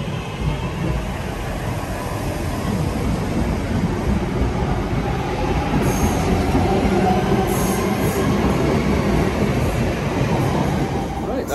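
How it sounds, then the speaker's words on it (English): A train rumbles loud and close across a bridge over Chester Road near Lichfield, a continuous heavy roar of wheels on rails with faint high squeals, no talk. "Train's about to cross Chester Road itself, which is beneath that bridge just there."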